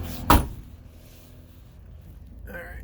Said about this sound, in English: Oh, I guess open the door and you can see better.